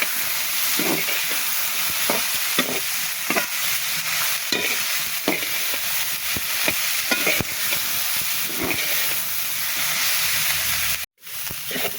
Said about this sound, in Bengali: এখানে লবণ হলুদ একটু মরিচের গুঁড়া দিয়ে জিনিসটা সুন্দর করে ভেজে নেবে